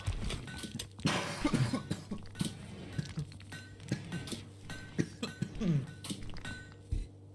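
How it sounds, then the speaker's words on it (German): A person coughs in a fit right after eating. The harsh coughs come in repeated close bursts, loud and near, with scattered clinks and small thumps between them. "Da kriege ich ultra den Hustenanfall nach dem Essen."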